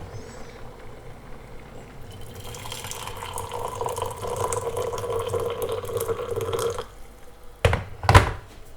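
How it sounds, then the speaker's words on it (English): Water pours from a Breville Impressions 1.7 litre electric kettle in a steady close splashing stream for a few seconds, ending with a couple of sharp thunks as the kettle is set down. "do a nice little test pour now."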